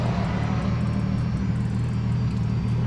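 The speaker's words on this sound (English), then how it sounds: "She's idling good." A car engine idles with a steady low rumble, close and constant, with a faint regular ticking above it and no talking.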